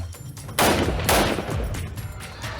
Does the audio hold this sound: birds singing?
no